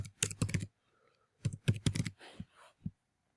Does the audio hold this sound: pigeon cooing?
no